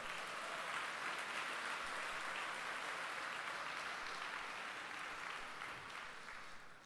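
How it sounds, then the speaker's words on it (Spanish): Church congregation at a Spanish-language service applauding in a sustained, dense wash of clapping from many hands, steady throughout and easing slightly at the end. "Denle un fuerte aplauso al Señor."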